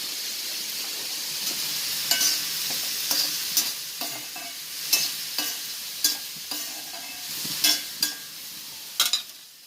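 Mustard seeds and fenugreek spluttering in a hot pan: a steady soft sizzle with a scatter of sharp, irregular pops and crackles at close range, growing a little more frequent toward the end.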